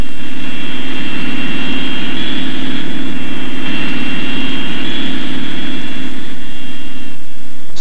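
Steady roar of a four-engine supersonic jet bomber such as the B-58, a continuous loud engine drone with a sustained whine over a low rumble, no voices.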